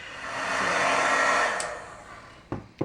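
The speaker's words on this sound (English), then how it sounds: "I'm going to heat my heat gun off to the side, and then I will bring that to my cardstock and melt it." A heat gun blows a steady, loud whooshing stream for a couple of seconds while melting embossing powder on cardstock, then fades, followed by two short sharp knocks.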